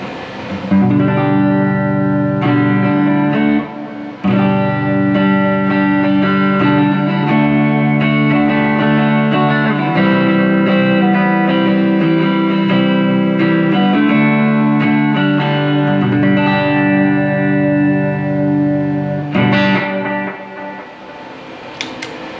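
An electric guitar played through two stacked pedals set for a faux tape echo rings out in sustained chords and notes, each phrase trailing repeating, slightly smeared echoes, loud and alone.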